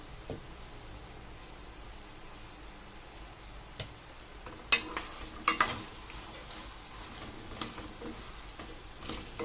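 Sliced potatoes frying in a pan over a medium flame, a steady soft sizzle punctuated by a few sharper clicks and scrapes of stirring partway through, no voices.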